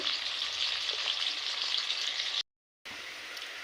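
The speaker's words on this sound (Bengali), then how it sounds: "দিয়ে এটা একটু ভাজা ভাজা করব।" Chopped onion and garlic frying in a pan with black cumin and salt, a steady bright sizzle that cuts out for a moment, then resumes at the same level.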